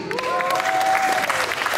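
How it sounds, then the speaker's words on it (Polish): An audience at a boccia competition claps for the PC4 and PC5 pairs players at the podium, a lively spatter of applause with a voice and some crowd sound mixed in beneath. "Gorące brawa dla tych zawodników."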